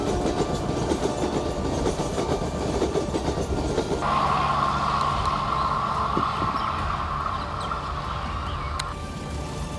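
A train rolls along the tracks close by with a steady, loud rumble and rhythmic clatter, and a sustained higher tone rises partway through; no voices.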